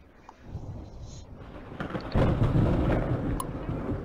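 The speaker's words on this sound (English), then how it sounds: "Great, now there's lightning." Thunder rolls through a stormy scene in a fishing video game, a low rumble that swells partway through and then stays loud, with a faint bed of rain beneath and no talking.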